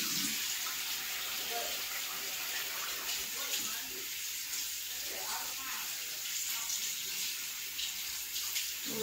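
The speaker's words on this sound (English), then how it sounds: "So, I'm finna wash my hands real quick." Tap water runs steadily into a sink while someone washes their hands, a constant hiss with small splashes and rustling throughout, fairly quiet and close.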